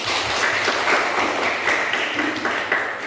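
A classroom group claps for the first team, a dense, steady patter of many hands that holds at an even level throughout.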